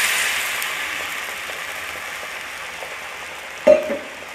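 A hot pan sizzles steadily while cooking wheat rava upma, then a sudden louder splash and hiss erupts near the end as water is added, before settling back down.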